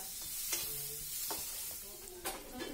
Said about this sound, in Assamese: সেইকাৰণে মই পিঁয়াজ দি চিম্পুলকৈ ভাজিম।